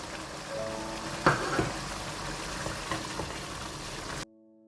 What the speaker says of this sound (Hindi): इसमें हरी मिर्चें भी ऐड कर देंगे ताकि वो भी भुनाई में साथ अच्छा सा भून जाए